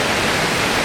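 Waterfall at Shepperd's Dell in the Columbia River Gorge, a steady broadband rush of falling water, close and even, with no breaks and no voices.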